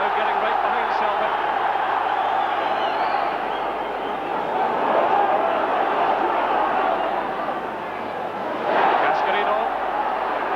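A football crowd at a Celtic home match against Hearts sends up a broad, steady roar of support, with a brief swell near the end, all beneath continuous commentary.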